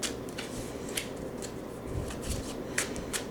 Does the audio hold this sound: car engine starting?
no